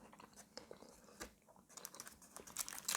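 Close bites and chewing on a Freia Sjokoklem chocolate wafer biscuit, soft rather than crisp, with a few sharper crunchy clicks scattered through the quiet chews and no talking.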